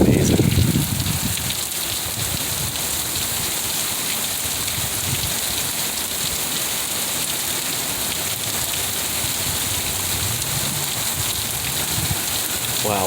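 Heavy rain pours down during a summer storm in Utah, a dense, steady hiss of drops on surfaces that fills the whole stretch at even loudness, with no voices over it.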